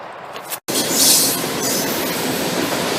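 A train rumbles loudly past on the tracks, a steady close roar with a bright metallic screech of wheels rising early on.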